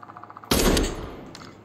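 A single loud gunshot in a VR shooting game fired with a gunstock, a sharp burst decaying over about a second after faint rhythmic ticking, with no talking.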